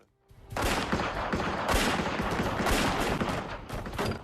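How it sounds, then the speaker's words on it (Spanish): A heavy gunfight between officers' six-shot revolvers and a suspect's semiautomatic assault weapon erupts after a brief silence into sustained, rapid overlapping shots, a dense crackling barrage that continues to the end. "Los agentes sabían que estaban en desventaja al disparar con armas de 6 tiros contra el arma de asalto semiautomática del sospechoso."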